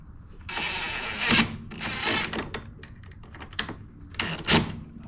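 Screws are being driven back into plastic on a Toro 22-inch Recycler mower, with repeated close ratcheting clicks in short bursts as a hand tool turns them in.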